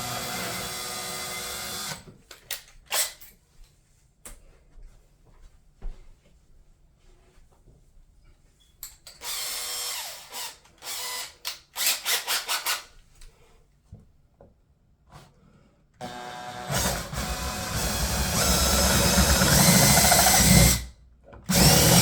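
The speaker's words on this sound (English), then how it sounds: "I'm going to drill the next hole" A power drill whirs in several bursts while drilling holes in a Brooklyn PK13 kayak, starting and stopping, with a long continuous run near the end, close and loud.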